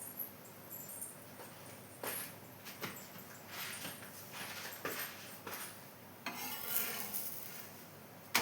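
Wheat kothumai poli flatbread cooks in a little oil on a pan, a soft steady sizzle broken by scraping and rubbing of a spatula turning it, close and moderately quiet.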